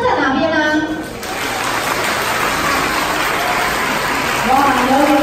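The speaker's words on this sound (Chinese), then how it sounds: "那我们现场呢，南方亲友的掌声在哪边呢？" Wedding guests applauding at a banquet reception, a loud, sustained wash of clapping that follows a voice over a microphone, with speech returning at the end.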